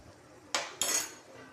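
A metal spoon stirs spices together in a pan for beef roast, giving two sharp, close clinks against the pan a moment apart over a quiet background.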